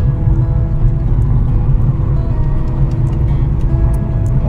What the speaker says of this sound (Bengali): সেরকম রাস্তায় গাড়ি চলছে